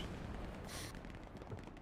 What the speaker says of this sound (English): There's explosions near here, so something's happening.